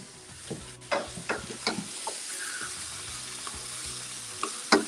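Fish frying in oil in a pan, a steady bright sizzle with occasional pops and soft utensil clicks, close and moderately loud.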